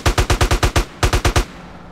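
AK rifle fire in GTA: San Andreas: two rapid bursts of loud, punchy shots, about six then four, evenly spaced and close, with a short gap between bursts and no voices.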